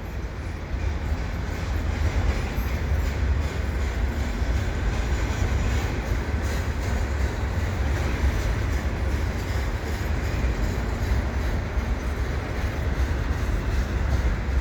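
Canadian Pacific eastbound double-stack freight train rumbles past at Dorval in winter, a loud continuous roar of wheels and cars with faint rhythmic clatter that holds steady throughout.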